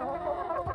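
Light Sussex hens give a short, close burst of clucking that lasts under a second.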